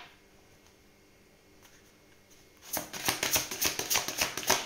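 A deck of tarot cards being shuffled and cut: quiet handling at first, then a fast, close, crisp riffle of repeated flutters in the second half, with no talking.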